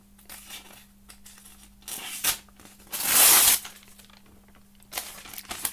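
A Benchmade knife slicing through thin paper: several short tearing, crinkling strokes, with one loud, drawn-out cut in the middle, heard close and clear with no talking.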